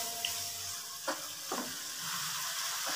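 Peas frying in a pan for keema matar, a steady close hiss of sizzling oil with a couple of soft scraping stirs partway through.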